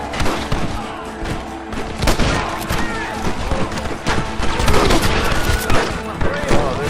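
Heavy gunfire in Red Dead Redemption, a loud, dense fusillade of overlapping shots with crashes and booms throughout, while voices shout over the battle.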